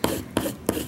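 Craft material is burnished down onto a board with three quick, evenly spaced rubbing strokes, close and fairly loud, with no talk.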